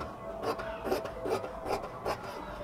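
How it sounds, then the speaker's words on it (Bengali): Cotton fabric for salwar pants being cut, with a steady series of soft rasping, rubbing strokes repeating about every half second, close and fairly quiet. "এরপরে হচ্ছে আমরা ফাইনালভাবে এটাকে কাটিং করে নিচ্ছি।"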